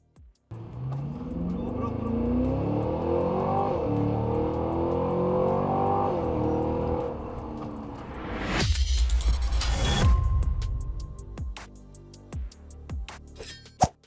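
A 2.5-ton Cadillac Escalade-V SUV with a supercharged Corvette V8 launches in a 0-100 run, its engine roaring and climbing through several gear changes. A loud rushing surge follows, then the noise drops to quieter clinks and knocks.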